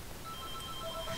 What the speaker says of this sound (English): And that is my phone ringing